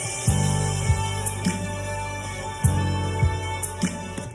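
An Ableton Live click track plays alone: sharp accented clicks land every second or so with softer shaker ticks between them, a steady, close, dry rhythmic pattern.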